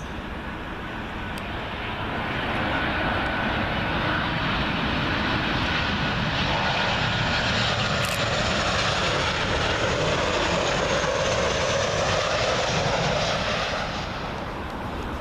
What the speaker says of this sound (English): Up next to arrive KLM 737. This one from Amsterdam Schiphol Airport.